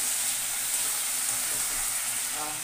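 Mutton hits hot oil with spices and keeps up a loud, steady sizzle, a dense continuous frying hiss from a close pan with no break.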